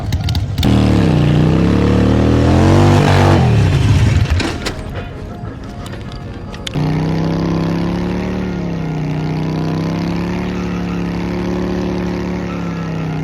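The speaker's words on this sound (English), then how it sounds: "My boy Isaiah on the R6" A Yamaha R6 motorcycle engine revs loudly nearby, its pitch rising and falling in repeated surges over the first four seconds before tailing off, then settling into a steadier lower drone for the rest.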